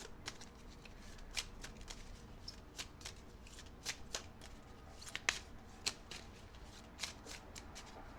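Tarot cards are shuffled by hand in a steady stream of soft riffling and crisp flicks, close and fairly quiet, with no voices over it.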